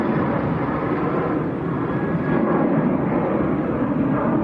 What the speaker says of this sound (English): So 2 Etihads taxiing out for departure at the same time